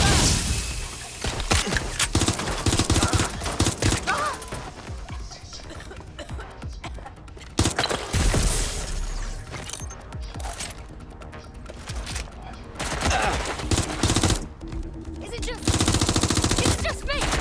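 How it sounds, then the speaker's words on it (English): Heavy automatic gunfire in Watch Dogs Legion, loud repeated bursts and sustained volleys with sharp pauses, with shouted voices and game sounds mixed in. "Shots fired!"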